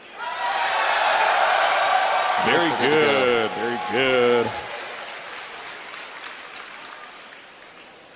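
A large crowd at BlizzCon 2011 roars and applauds before a StarCraft II match in a continuous wash of noise while someone speaks briefly over it, the cheering gradually fading.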